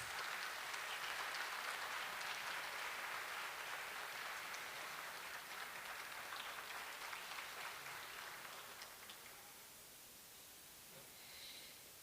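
Continuing applause for a Turkish classical choir's conductor, Nergiz Dinç Yavuz, a faint, dense hiss of distant clapping from a concert audience that slowly thins and fades toward the end.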